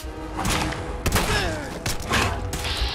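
Laser pistol gunfire in the video game Fallout 4 crackles in dense, rapid bursts, a busy volley of energy shots with thumps and sharp zaps packed close together over a few seconds.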